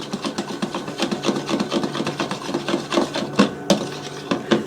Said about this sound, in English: use it for the egg white, and you have to whisk it.